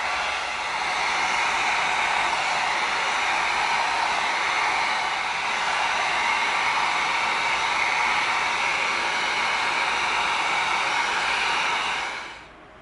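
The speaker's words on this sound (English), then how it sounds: "let's tighten all this up with some heat." A heat gun blows hot air over EVA foam prop pieces for a Halo Magnum pistol, a steady loud whooshing hiss running nearly the whole clip before cutting off at the end.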